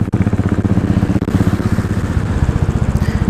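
A Bajaj Pulsar motorcycle passes close by during a group ride, its engine a loud, rapid pulsing thrum that holds steady for a few seconds.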